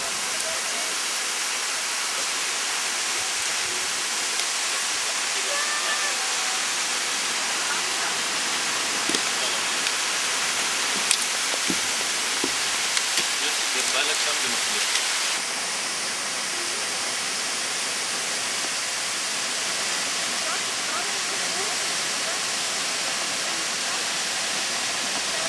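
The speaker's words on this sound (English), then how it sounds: "Now standing almost underneath the Selce waterfall." The Selce waterfall in Albania, heard from almost underneath: a loud, constant roar of falling water that fills the scene without a break, with faint scattered knocks and a few quiet voices beneath it.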